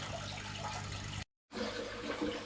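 Water pouring steadily into a large discus fish aquarium as it is refilled, a loud close gushing and splashing that cuts out briefly and resumes with more bubbling churn.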